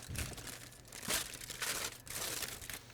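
A homemade plastic wrap envelope around oven-cooked pork ribs is pulled open, giving soft close crinkling and crumpling in irregular bursts, faint and alone.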